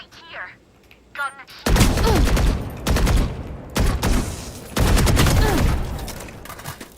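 Rapid bursts of tap-fired gunshots in the tactical shooter Valorant, several short volleys in a row, loud and close, separated by brief pauses, with faint game chatter before the first burst.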